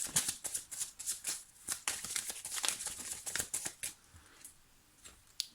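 Tarot cards shuffled and drawn by hand, a run of quick crisp riffling and slapping bursts, close and fairly quiet, trailing off into softer single card sounds at the end.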